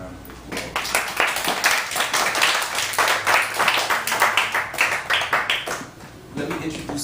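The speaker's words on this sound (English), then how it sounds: "y'all deserve another round of applause" A crowd at a career day event claps in sustained applause for several seconds, dense and steady, with voices mixed in, then it thins out near the end.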